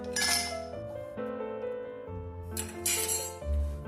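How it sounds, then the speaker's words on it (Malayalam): Ice cubes drop into a drinking glass for a grape juice, making a few bright, close clinks and rattles one after another. "ഒരു ഗ്ലാസ്സിലോട്ട് ഐസ് ക്യൂബ്സ് ഇട്ട് കൊടുക്കുക."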